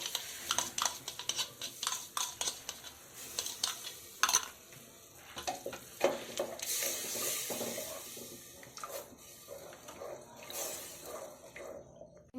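Curd being stirred and mixed into egg biryani in a pot, with irregular wet scraping and clinking strokes and a light sizzle underneath, close by.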